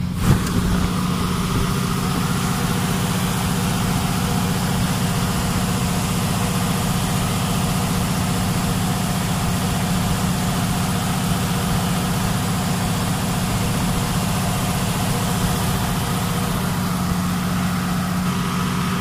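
A generator engine at a pump station runs continuously, a steady loud droning hum with a low mechanical tone, unchanging throughout with no talk.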